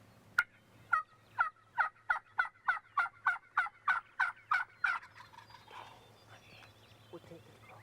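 Wild turkeys gobble in open farm country in Illinois, a rapid run of about fifteen evenly spaced sharp gobbling calls over several seconds, fairly distant and clear against quiet background, then fading into faint ambient sound.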